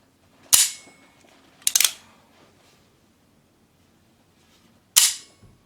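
An untuned standard Uberti revolver dry-fires: three sharp, close metallic clicks as the hammer falls, two about a second apart and a third after a pause of roughly three seconds, with quiet between.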